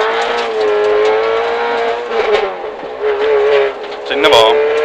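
Rally car launches hard from the start line at a gravel stage rally in Perniö, Salo, Finland, a loud close engine roar holding high revs, with a voice counting down over it and a brief rising burst near the end.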